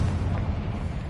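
A Confringo fire spell explodes in Hogwarts Legacy, a dense, rumbling low boom sustained steadily for about a second without any talk.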